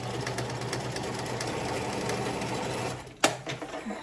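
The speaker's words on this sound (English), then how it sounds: "Let's do one more stitch just to be careful that we didn't miss anything." A sewing machine runs in a steady, fast mechanical whir while stitching curtain fabric, then stops with a sharp clunk, followed by a few fainter clicks and handling sounds.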